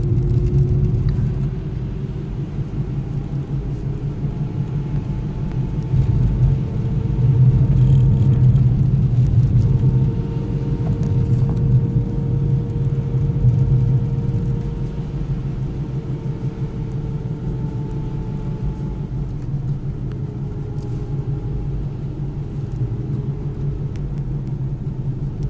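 A car driving on snowy roads in Lexington, Kentucky, with a steady low engine and road rumble heard from inside the cabin, rising a little now and then but staying smooth throughout.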